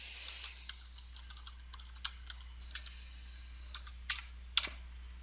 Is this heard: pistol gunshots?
no